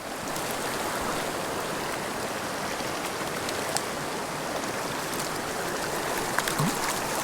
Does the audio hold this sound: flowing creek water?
yes